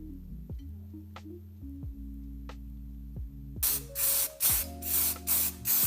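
A restored tool gets its fresh coat of paint. After a few low tonal hits and tones, bursts of hissing aerosol spray start partway through, repeating in short close pulses.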